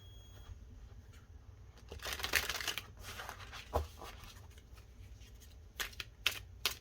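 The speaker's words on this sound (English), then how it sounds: "I'm really going to shuffle these" Tarot cards are shuffled by hand with soft riffling and flicking bursts, irregular and close, over a low steady background hum.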